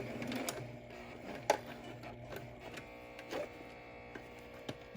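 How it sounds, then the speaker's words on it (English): A sewing machine runs slowly and quietly as it stitches a cable-tie-reinforced fabric face mask, giving a soft mechanical hum with a few faint clicks. "sew up to the top, go slowly"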